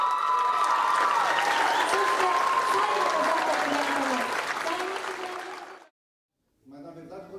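A large crowd at an awards ceremony applauds and cheers for a special guest, a sustained roar of clapping that fades out, then a brief silence before speech resumes.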